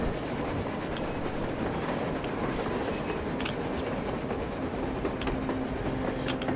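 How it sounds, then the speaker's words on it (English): A train rolls along on the surface in the video game Metro Exodus, a steady continuous rumble with faint rail clatter and a few higher squeals, moderately loud and without voices. "A damn train on the surface!"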